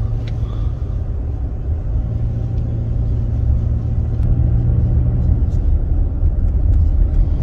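A car engine running steadily, heard from inside the vehicle as a low continuous hum and rumble that grows slightly heavier toward the end, with faint background sounds.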